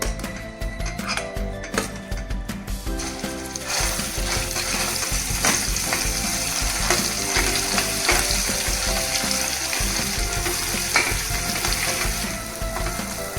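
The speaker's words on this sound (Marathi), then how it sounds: "तेल गरम झालं आहे आता मसाला फ्राय करून घेऊ" Masala fries in hot oil in a kadhai for a Khandeshi besan patodi amti. A loud, steady sizzle carries on throughout, broken by occasional clinks of stirring against the pan, with no talking.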